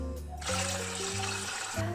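Water and tomato sauce poured into a cooking pot for rice, a steady rushing, splashing pour that starts abruptly and continues close by without talk.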